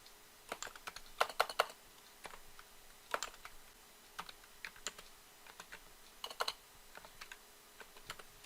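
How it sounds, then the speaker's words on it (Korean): Someone types code on a computer keyboard during a C# programming demo, producing quiet, irregular bursts of key clicks with short pauses between them, close up and without speech. "여기는 직접 타이핑할게요."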